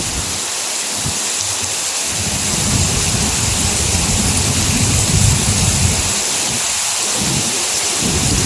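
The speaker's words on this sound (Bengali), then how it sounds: "পুরো এখনো বাজ পড়ছে, বিদ্যুৎ চমকাচ্ছে" Low rumbles of thunder rolling under a steady downpour of heavy rain at night in the Dooars, the rumbling swelling and fading over a constant roar of water.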